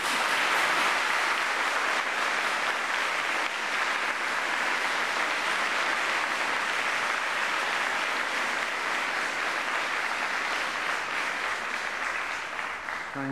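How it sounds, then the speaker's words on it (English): A university graduation ceremony audience breaks into a rousing round of applause, a thick, unbroken wash of clapping from a large crowd that holds steady at full strength for over ten seconds and eases only slightly at the end. "give your guests a rousing round of applause"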